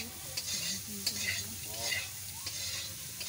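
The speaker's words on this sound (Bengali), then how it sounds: "ভালো করে মিশিয়ে নিয়ে ভাজা হয়ে গেলে একটি পাত্রে এঁচড়গুলোকে তুলে রাখব।" Young jackfruit pieces fry in a kadai, stirred so that a close sizzle swells and fades with each turn of the spatula, and a few light scrapes sound against the pan.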